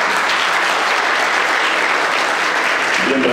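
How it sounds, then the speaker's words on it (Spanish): An audience at a dance school presentation applauds, a dense, steady burst of clapping that fills the room, loud and sustained throughout. "Aplausos"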